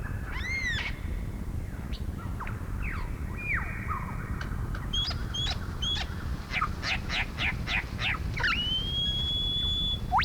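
A lyrebird mimics a rapid run of varied bird calls, whistles, chirps and sweeping notes, one after another like a chorus, over a steady low rumble, in the Australian bush.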